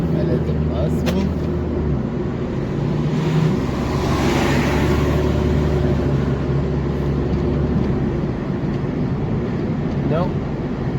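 Road traffic rolls past at a classic car meet, including a quiet Skoda, a steady close engine and tyre rumble with a broad swell of passing vehicles midway, while someone talks over it.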